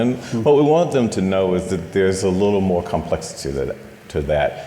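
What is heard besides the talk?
None of the usual background noises is heard.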